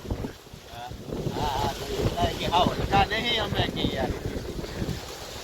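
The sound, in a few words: strong wind blowing outdoors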